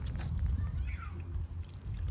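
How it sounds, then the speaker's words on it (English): Water poured from a can onto dahlia seedlings in crates, a soft trickling splash near at hand with brief background voices. "I'm gonna water them."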